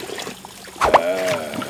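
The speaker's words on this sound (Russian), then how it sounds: "Люблю смотреть, как течет вода." Water trickles and dribbles steadily close by in a cartoon about the Luray Caverns while a voice speaks briefly over it.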